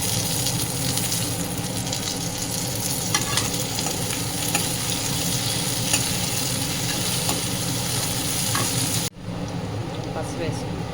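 Chicken curry base frying in a pan before mint leaves go in, a dense steady sizzle with stirring throughout that cuts off abruptly near the end, with some talk over it.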